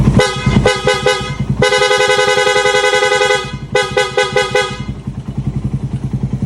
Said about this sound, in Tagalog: Ito naman yung busina nya.